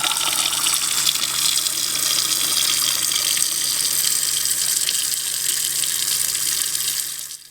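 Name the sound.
water running through RV sink into gray tank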